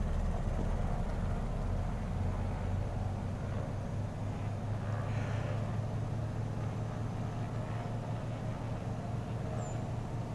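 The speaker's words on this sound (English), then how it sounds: "We're going to throttle up 1500 RPM." The engines of a Beech 18 aircraft throttled up to 1500 RPM, a steady low droning roar with a constant hum, heard from inside and holding even for the whole stretch.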